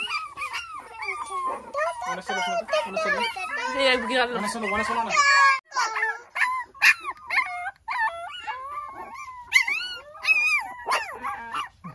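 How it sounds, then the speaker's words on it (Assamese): Growing puppies bark, howl and whimper close by in a steady, overlapping stream of yips, whines and drawn-out howls. "কিমান ভুকি আছে"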